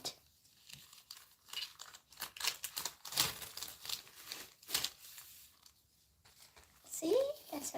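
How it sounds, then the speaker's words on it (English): Crinkling and tearing as excess aluminium foil is pulled away from polymer clay, coming in close, uneven bursts of crackle with a brief voice near the end. "So what we're going to do this step is take all the excess foil out."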